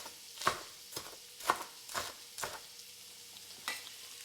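Paneer frying in a pan for a restaurant-style palak paneer, with a steady soft sizzle broken by several sharp scraping stirs of a utensil against the pan, close and fairly quiet, no talking.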